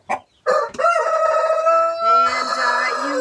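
A Cochin bantam rooster lets out a loud, close crow, a single drawn-out call broken into rising and falling segments, with nothing else competing.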